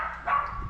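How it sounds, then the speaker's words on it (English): A small dog gives one short, soft yip or bark in a quiet room, brief and fairly close, no speech over it. "Isn't that a cute little dog in there?"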